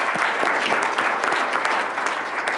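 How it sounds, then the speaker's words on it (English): A round of applause for the schools that took part in a competition, steady clapping from an audience at a business meeting, continuous and fairly loud throughout. "a round of applause to the schools that attended in the competition"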